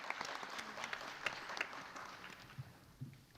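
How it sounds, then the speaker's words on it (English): Audience applause for the dancers at a Bharatanatyam arangetram, a steady wash of clapping with a few sharper claps standing out, moderately loud and slowly tapering. "Please give them a big applause."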